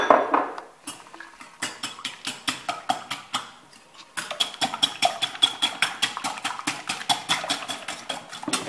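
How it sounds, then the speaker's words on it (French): Rapid, rhythmic whisking of two whole eggs and two separated yolks in a bowl for a homemade crème caramel, the whisk clinking steadily against the bowl in quick repeated strokes with a brief pause partway through. "Je vais bien les mélanger."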